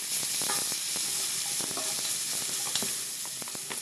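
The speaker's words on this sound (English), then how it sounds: "Garlic and onion. Stir it up a little bit." Garlic and onion frying in rendered bacon fat while being stirred, a loud steady sizzle close by with scattered scraping and clicking from the spoon.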